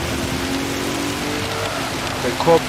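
Racing game cars driving through heavy rain, a steady hiss of spray and rainfall under a low engine drone, with a brief louder burst at the end.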